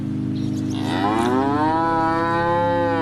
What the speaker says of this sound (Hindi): ये गाय की आवाज कहाँ से आई?